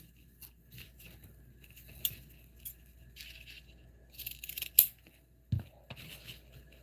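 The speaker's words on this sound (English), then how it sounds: "I'm going to measure and cut my other handle the exact same length." Scissors snip through the handle strap of a tote bag made from a Dollar Tree placemat, giving a few sharp, close crisp cuts spaced apart with quiet handling rustle between them.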